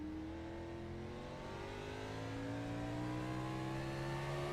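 A stock car's engine in a racing video game league race climbs steadily in pitch under sustained acceleration, a continuous loud whine with layered harmonics rising over several seconds.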